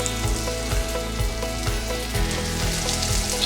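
Sliced shallots sizzling in hot oil in a pan, a loud, constant crackling hiss with small irregular pops close at hand, no voices.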